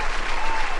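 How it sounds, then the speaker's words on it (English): A studio audience breaks into a brief, dense burst of applause, loud and close, lasting under a second. "let's give you some applause for that"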